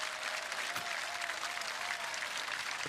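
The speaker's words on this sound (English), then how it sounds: "Applause from this Bobcat crowd as Rodarte gets carted off." Ohio Bobcat football crowd applauding steadily at a college game against Gardner-Webb, a broad, continuous wash of clapping that holds at an even level throughout with no one speaking.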